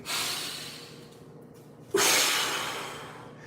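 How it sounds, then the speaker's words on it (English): Breathing during a qigong exercise: one steady breath followed by a sharper, louder exhale or sniff, close and alone with no talk. "So you're breathing."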